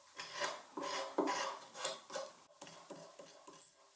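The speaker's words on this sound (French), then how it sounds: "Je veux garder au maximum le plaquage d'origine, donc je gratte l'ancienne colle." Old glue is scraped off the walnut veneer of a desk in a run of short, repeated scrapes, each a gritty stroke with a soft tap, heard close up and alone.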